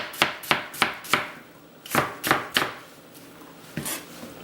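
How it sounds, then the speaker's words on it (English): A knife slices through a vegetable on a cutting board for chicken marsala, giving crisp, close chops in two quick runs of four and then a few spaced strokes, with no voices. "Then I'm going to make my slices just like this."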